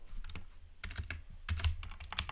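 Someone types quickly on a computer keyboard, entering values in a web app. Close, crisp key clicks come in short bursts with brief pauses between them.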